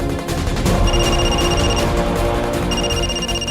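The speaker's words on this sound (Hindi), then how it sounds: "रिंग हो रहा है।" A mobile phone ringing in a scene, a repeating electronic tone in two bursts over a loud, busy background of music and effects.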